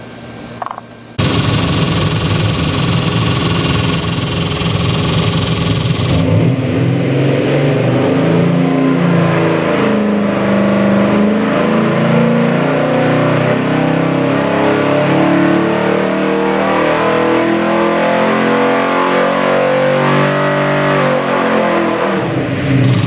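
A Ford 427FE center-oiler crate engine with dual FiTech EFI units runs loud and steady close by, a sharp start giving way to a continuous rumbling idle with shifting revs throughout.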